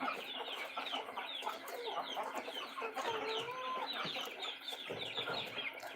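Chickens cluck repeatedly, close and busy, in an ongoing chatter of short calls with a few drawn-out notes.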